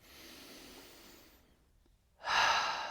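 Slow, deep breaths drawn in by a person at close range, a soft airy inhale followed by a quiet pause and then a stronger, louder breath.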